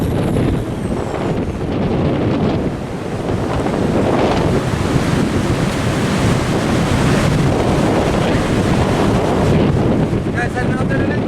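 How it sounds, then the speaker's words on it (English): Strong wind and surf at the beach on a day of high winds and wild surf, a loud continuous roar of breaking waves mixed with gusty wind buffeting the microphone, with no talking. "I was hoping the wind was going to die down, but I don't think it's gonna."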